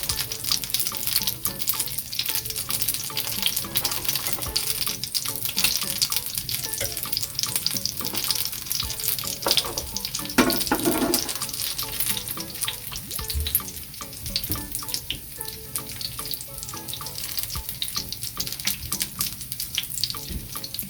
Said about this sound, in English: I'm gonna fry everything and then put to drain and serve